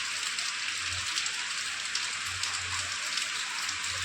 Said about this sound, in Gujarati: અત્યારે વરસાદ બહુ જ ચાલુ છે